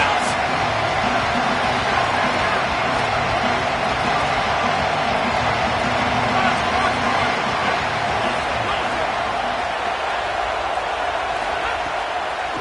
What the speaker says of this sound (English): Big 3rd down as the crowd gets behind this defense.